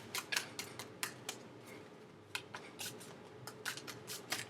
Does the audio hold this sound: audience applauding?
no